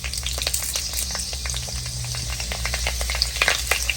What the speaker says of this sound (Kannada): ಒಗ್ಗರಣೆ ಚಟಪಟ ಅನ್ನೋಕ್ಕೆ ಸ್ಟಾರ್ಟ್ ಆದಮೇಲೆ ಈಗ ಕರಿಬೇವಿನ ಸೊಪ್ಪು ಹಾಕ್ಕೋಬೇಕು